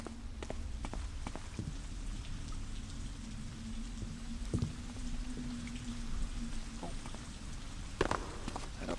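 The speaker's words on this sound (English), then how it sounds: "there is rain and thunder, which makes noise" Steady rain falls in a video game mission, a constant hiss of drops with scattered patters and a faint sustained low hum beneath, plus a couple of sharper knocks; no clear thunder roll stands out.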